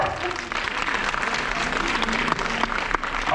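An audience at a film premiere applauds, a dense, steady wash of clapping hands close by that holds throughout, with a few scattered voices mixed in.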